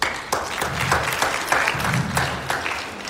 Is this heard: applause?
yes